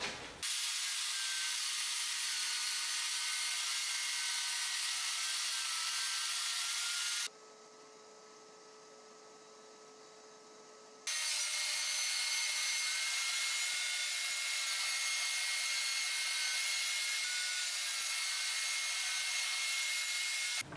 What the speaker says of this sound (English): I'm going to start cutting um, the bigger of the two pieces down into 18 inch sections